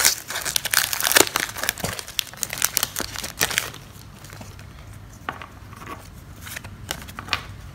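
A Pokémon Rebel Clash booster pack is torn open, its foil wrapper crinkling loudly up close for a few seconds before dropping to faint, scattered rustles and taps, with no talking.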